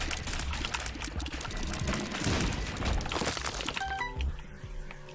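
Sad bombs explode in The Binding of Isaac Afterbirth as a dense, loud burst of rapid blasts and crunchy impacts that fades into short game chimes near the end, with no talking.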